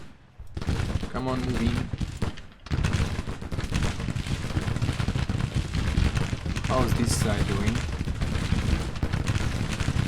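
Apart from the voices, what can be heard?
troops firing in video game Grand Tactician Civil War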